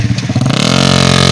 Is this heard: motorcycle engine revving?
yes